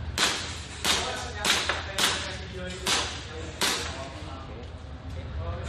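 A Glock 17 KJW airsoft pistol is test-fired, about seven sharp snapping shots in an irregular sequence, close and fairly loud over steady background noise.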